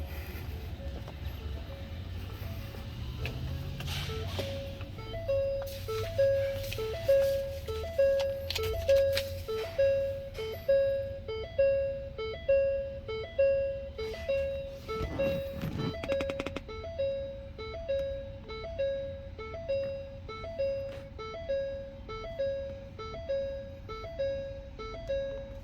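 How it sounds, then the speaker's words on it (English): A Ford Transit HD T350 sounds its key-in-ignition warning, a steady string of evenly spaced chime beeps repeating for about twenty seconds over faint background noise. "when the key's in the ignition, it likes to beep constantly"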